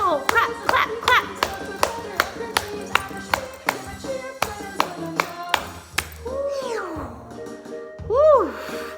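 Hands clap repeatedly in an even rhythm during a children's yoga session. A voice talks and sings over and between the claps, and it ends with a voiced whooshing imitation of flying.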